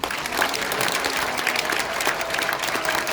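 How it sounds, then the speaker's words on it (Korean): Dense, continuous clapping from a large crowd at a political community launch event, loud and close throughout with no gaps and no voices over it. "이분들에게 박수 한번 보내주십시오"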